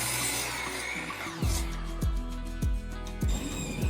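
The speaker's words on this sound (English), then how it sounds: "I'm starting by trimming the ends with my miter saw" A miter saw trims the ends of a 2x4, four loud close rhythmic passes, each a whining spin-up and a harsh bite into the wood, repeating about every half second.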